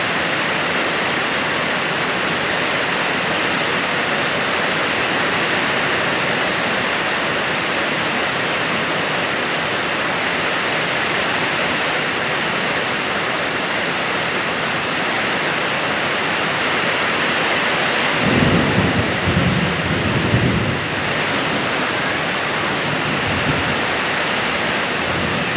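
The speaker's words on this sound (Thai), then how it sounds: "ฝนตกนะครับที่เต่างอย" Heavy rain pours steadily at home in Tao Ngoi, a dense, even hiss that holds for the whole stretch, with a few low rumbles near the end that may be distant thunder.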